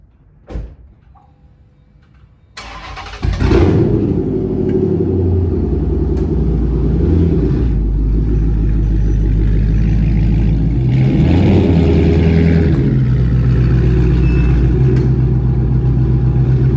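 A Dodge SRT8 V8 starts with a crank and a loud catch at about three seconds, then settles into a deep, steady idle with a couple of swelling revs. A door sound comes just before, and nobody speaks.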